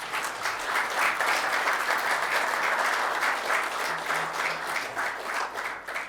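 Sustained audience applause at a Slovenian-Israeli friendship ceremony, a dense steady wash of many hands clapping with no pauses, fading slightly at the end.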